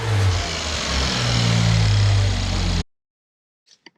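Nissan GT-R engine, a blown 2017 unit fitted with downpipes, revving loud and close in a steady rising roar for under three seconds before cutting off abruptly, followed by a couple of faint clicks.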